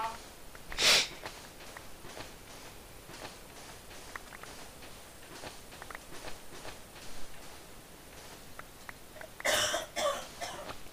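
A person coughs loudly near the start and again near the end, short harsh bursts over a quiet background with faint scattered clicks between them.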